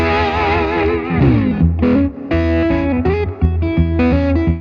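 Electric guitar played with a pinky slide, gliding pitches and sliding notes over a driven, effected tone, loud and close in a short burst of phrases with no speech.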